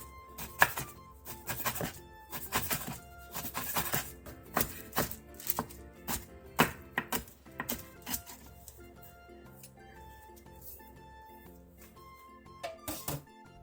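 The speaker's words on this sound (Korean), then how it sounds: "묵은지 한 줌을 잘게 잘라주세요." Aged kimchi being chopped finely with a knife on a board, a run of crisp, close knocks in an uneven rhythm that slows and then pauses before a few final cuts, with no talking.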